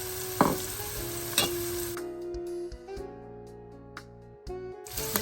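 Chopped onion and green chilli sizzling in a pan, a bright frying hiss with a few sharp stirring scrapes and clacks, the sizzle fading quieter partway through.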